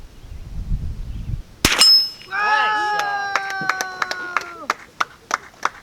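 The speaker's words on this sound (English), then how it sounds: "Shoot the yellow so we hear the ping." A .22 LR bullet striking a yellow steel target gives a sharp, loud metallic ping that rings on with long, wavering tones, followed by a series of evenly spaced quieter clicks.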